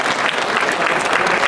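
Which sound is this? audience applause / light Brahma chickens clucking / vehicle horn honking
audience applause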